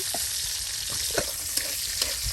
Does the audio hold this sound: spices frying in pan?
yes